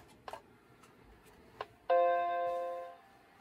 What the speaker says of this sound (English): You get the beautiful boot chime